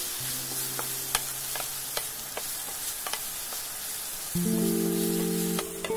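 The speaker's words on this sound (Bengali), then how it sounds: "এই সব মশলার সাথে উচ্ছে আলুকে ৩-৪ মিনিট ধরে ভেজে নিচ্ছি।" Bitter gourd and potato frying in a pan with cumin powder, slit green chillies and red chilli powder: a steady, dense sizzle with occasional sharp crackles and pops, close and continuous, with no talking.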